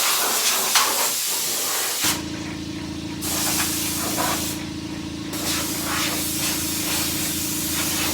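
A spray gun hisses steadily while paint goes onto a Massey Ferguson 1105 tractor, starting after a brief quieter stretch and running close and continuous with a couple of short pauses in the spray.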